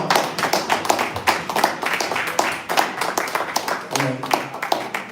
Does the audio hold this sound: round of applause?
yes